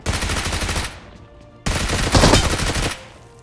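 Two loud bursts of rapid automatic gunfire from a battle royale video game, separated by a short gap.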